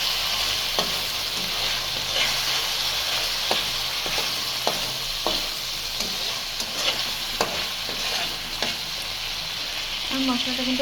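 Spice paste frying in a pan with hilsa fish, a steady hissing sizzle broken by repeated scraping and clinking of a stirring spoon, close and continuous.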